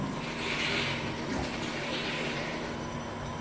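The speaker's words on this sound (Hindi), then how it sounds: "पानी जा रहा है अंदर" Water rushes steadily into the 30-litre tank of a battery-operated ride-on scrubber dryer, with floor-cleaning chemical added, a continuous hissing flow with a low mechanical hum underneath.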